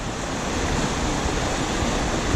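Low-water river rapids of the Blue Chute on the French River rush in a dense, continuous roar, loud and steady, with no voices.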